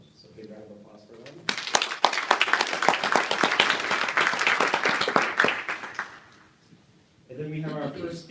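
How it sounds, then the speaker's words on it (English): Audience applause for event sponsors at a Wikiconference North America keynote session, a dense burst of clapping that lasts about five seconds and then fades, with someone speaking into a microphone before and after it. "So big round of applause for them."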